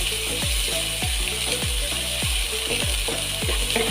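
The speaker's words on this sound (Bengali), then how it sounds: "তারপর পেঁয়াজটা ভালো করে ফ্রাই করে নিতে হবে" Onion frying in a pan for a Bengali-style chole masala with potato: a steady bright sizzle hisses throughout, under a regular series of low thumping knocks repeating about twice a second.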